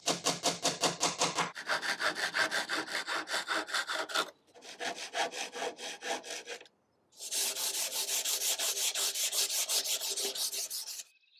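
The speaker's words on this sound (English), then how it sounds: "I don't want to sand too much, I just want to clean it up a little bit." A reused vintage wooden tabletop being hand-sanded, four runs of brisk back-and-forth rasping strokes in a steady rhythm, close and clear, with short pauses between runs.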